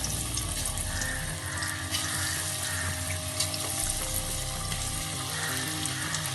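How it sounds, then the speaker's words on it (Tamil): Chickpea pakoda batter fries in hot oil in a kadai, giving a steady, dense sizzle and bubbling that stays close and even throughout. "இதை எண்ணெயில் நம்ம பொரிச்சு எடுக்கலாம்"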